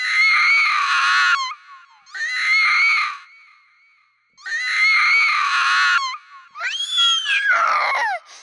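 A toddler screams in loud, shrill, drawn-out bursts, three long wails with short breaths between them and a final cracking, sobbing cry, heard close and dry with no background.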